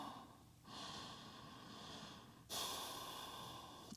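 Slow, steady breaths during a yoga forward fold in a deep leg and hip stretch session, soft broadband exhalations, one quieter breath followed by a slightly louder one, close and alone.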